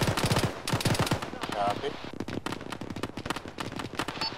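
Bursts of automatic and single gunfire from an Arma combat scenario crackle close and loud in rapid clusters, with radio-style voices calling out between and over the shots.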